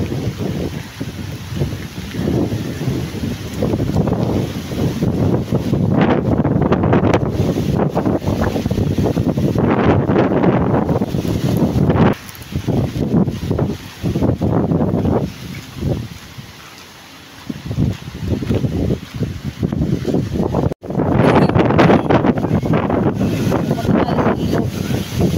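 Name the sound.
strong wind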